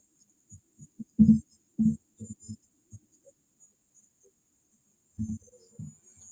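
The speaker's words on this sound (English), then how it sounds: "It's crickets." Crickets chirp in a thin, continuous high trill that pulses slightly, sitting alone in near silence, while occasional soft low thuds come and go underneath.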